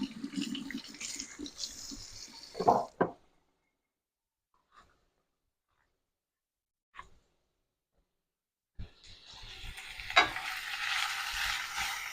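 Onions fry in a pan and get a quick stir with a spatula, a close sizzle with scraping. It drops into near silence broken by a few light knocks, then the sizzle returns.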